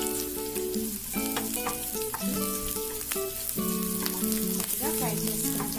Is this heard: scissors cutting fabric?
no